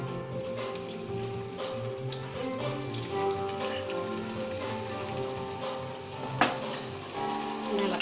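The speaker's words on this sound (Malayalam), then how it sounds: "വെളുത്തുള്ളി ഇഞ്ചിയും പച്ചമുളകും കൂടെ ഒന്ന് മൂപ്പിച്ചെടുക്കാം." Garlic, ginger and green chillies fry in hot oil along with toasted cumin, giving a steady, dense, rain-like sizzle close by. A single stirring clink sounds near the end, and no one speaks.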